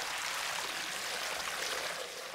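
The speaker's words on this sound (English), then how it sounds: "1, 2, 3, open the sluice gates." A broad, steady rush of water pours from opened sluice gates and floods down a bare hillside, loud and continuous from start to finish with no voices.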